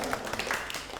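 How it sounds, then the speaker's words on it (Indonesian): Brief classroom applause during a microteaching lesson, a short burst of scattered clapping from students, moderately loud and filling the whole moment with no talk over it. "Kita beri tepuk tangan untuk Risma."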